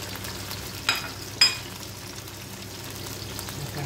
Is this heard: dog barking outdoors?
no